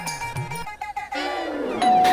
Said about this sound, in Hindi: डोरबेल दोबारा बजती है।